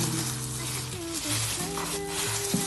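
Hot polvoron mixture of toasted flour, milk powder and butter stirred in a pan, a soft continuous scraping and rustle under a person speaking.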